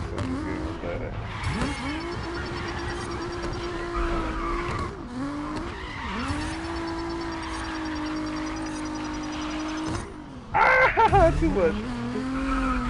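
Drifting car in the Grid Legends racing game, engine droning steadily while tires squeal in long sustained slides, loud and close, with a brief rougher burst near the end and someone speaking briefly.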